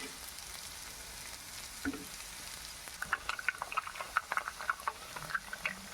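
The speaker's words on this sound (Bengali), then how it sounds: "ডিমটা দিয়ে এবার আমি একটু নাড়াচাড়া করে নেব।" Egg stirred into nearly cooked potatoes frying in a pan, soft sizzle building into a run of quick scraping and tapping stirs, close but fairly quiet, no voices.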